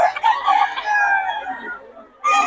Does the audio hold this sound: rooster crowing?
yes